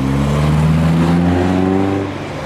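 A Mark II car drives past at the Castle Combe race circuit, its engine a loud, close drone that rises then eases off in pitch as it goes by, with no voices.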